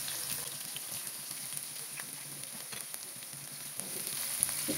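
Half a cup of chopped onion frying in a pan for a fish-head curry with cumin and lemon leaves: a low, steady sizzle with faint crackles and an occasional light scrape, quiet and close, with no voices.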